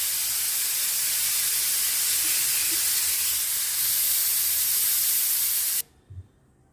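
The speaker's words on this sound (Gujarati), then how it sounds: "હવે આપણે ઢાંકણ ઢાંકી અને 4 થી 5 વિસલ વગાડી દઈશું" Steady loud hiss of steam escaping from a pressure cooker whistle while vegetables for pav bhaji cook inside, a continuous spraying rush that cuts off abruptly near the end, followed by a faint low thump.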